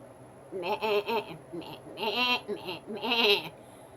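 A goat bleats in several wavering, voice-like calls close by, in short bursts with brief gaps, the harmonic cries rising and falling much like a human voice or laugh.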